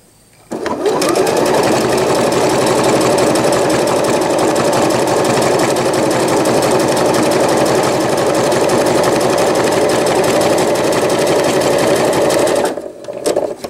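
A sewing machine stitches nursing pads in one loud, continuous whirring run of about twelve seconds, starting abruptly and then stopping near the end.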